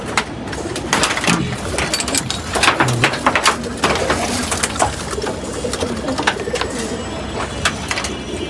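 Caged pigeons coo steadily during a vaccination session, their soft, repeated calls layered over a continuous rustling and fluttering background with no clear pauses.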